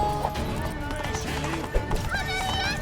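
Geralt's horse gallops in The Witcher 3: Blood and Wine, a steady clip-clop of hooves with a whinny, set under busy game music and voices talking.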